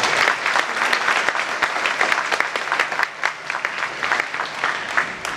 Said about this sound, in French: Merci d'applaudir Eugène Van Xen.